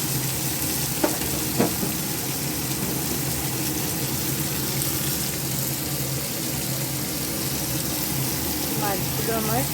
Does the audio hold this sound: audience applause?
no